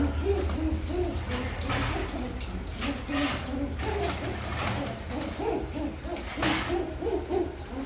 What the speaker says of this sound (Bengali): এই যে একজোড়া কবুতর